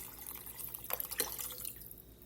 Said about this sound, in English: I'm gonna go ahead and add 2 more cups of water